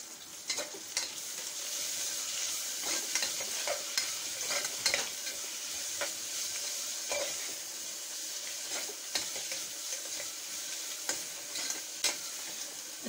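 Ginger paste frying with onions and green chillies in a pan, a soft, quiet sizzle broken by frequent clicking scrapes of a spoon stirring, with no voices.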